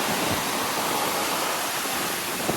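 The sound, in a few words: sea waves crashing against fort bastion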